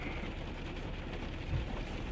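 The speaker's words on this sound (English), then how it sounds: "I'm in the car, it's raining" Rain falls steadily outside a parked car, heard from inside the cabin as a dense, even patter and low rumble with no talking.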